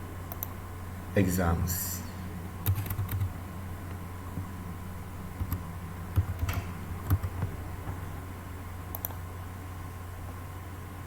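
Computer keyboard typing while working in Adobe Photoshop: sparse, quiet clicks and short bursts of keystrokes scattered through the stretch, with a steady low hum and a voice talking in places.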